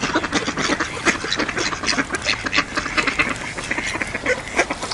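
A male duck quacking among other ducks outdoors, a continuous busy chorus of nasal quacks and calls, fairly loud and close, with no voices.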